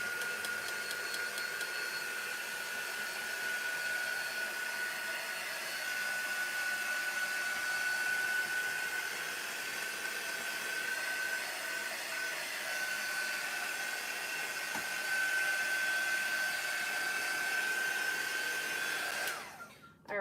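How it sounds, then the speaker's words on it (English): A heat gun dries a paper craft project with a continuous, close blowing roar and a steady whine that cuts off abruptly near the end. "Even speed it up a little bit with my heating tool."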